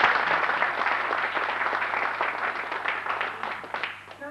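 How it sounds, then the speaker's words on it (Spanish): Audience applause at a book presentation about Carlos Gardel, a dense crowd clapping steadily at medium distance, strong at first and gradually thinning and fading toward the end. "les pido un fuerte aplauso para el mayor de los escritores de Carlos Gardel."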